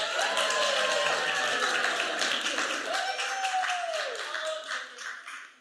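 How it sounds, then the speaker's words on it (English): A board-meeting audience gives a round of applause for a team alternate: dense, steady clapping that fills the room with voices mixed in, fading toward the end. "A big round of applause for Angelina Strong."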